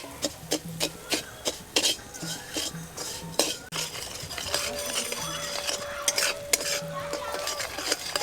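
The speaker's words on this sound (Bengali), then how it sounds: "খুন্তিটা কিন্তু সবসময় নাড়তে হবে যাতে কড়াইয়ের তলায় একদমই বসে না যায়" A spatula steadily stirs sugar melting into caramel in a wok, giving a repeated scraping and clinking rhythm against the metal with a light sizzle underneath, close and moderately loud, with no talk.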